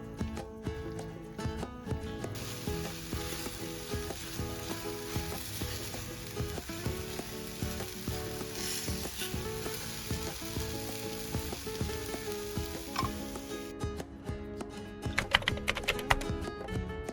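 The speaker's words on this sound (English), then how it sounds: "Cook it over medium heat for about 5 to 10 minutes until there's no excess liquid left." An apple and carrot tart filling sizzles and bubbles in a pan over medium heat, a steady close frying hiss with occasional stirring scrapes and clinks, no talking.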